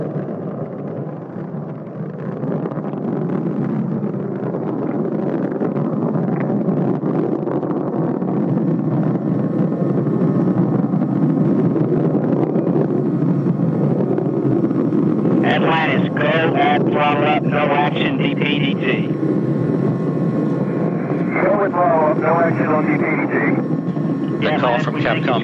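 Space Shuttle Atlantis climbing on its three liquid-fuel main engines and solid rocket boosters during the STS-135 launch ascent, a loud continuous roar with wind buffeting, heard from a booster-mounted camera, with radio voices breaking in near the end.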